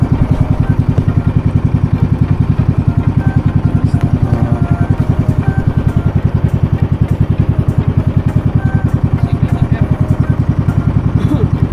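A motorboat engine chugs steadily and loudly for the whole stretch, a fast even throb without pause, close by.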